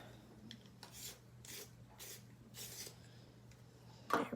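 A pencil being sharpened in a hand sharpener, heard as several short, quiet rasping scrapes in an uneven rhythm, close up, with a brief sharper knock near the end.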